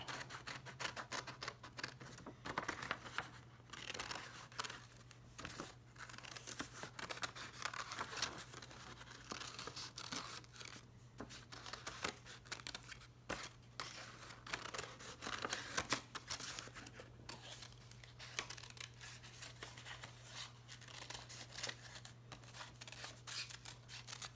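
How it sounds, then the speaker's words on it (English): Scissors snip steadily through paper, cutting out a flower shape for a spring flower craft, with continuous close crinkling and cutting over a low steady hum and no talking. "I'm going to cut this one out"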